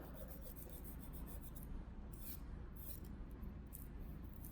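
A 180-grit nail file rounding a natural fingernail, producing quiet, close, rhythmic rasping strokes that repeat steadily without pause.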